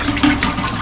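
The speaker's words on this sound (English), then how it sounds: "I start off by putting the water in" Water running into a pot to start a batch of Maketaan preserve, a steady close splashing gush that lasts under a second with no voices.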